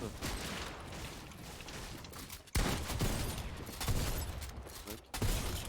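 Bursts of rapid gunfire in a shooter video game, dense and continuous with sharp louder volleys near 2.5 and 5.2 seconds, game action noise throughout and no speech.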